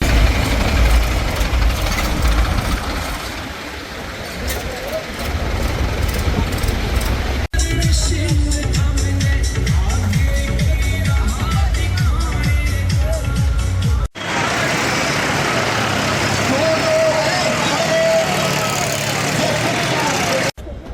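Farmers drive a march of tractors along a highway during a Bharatiya Kisan Union protest in Baghpat, and heavy engines drone and rumble loudly and steadily across three consecutive stretches, with chatter and crowd noise mixed in.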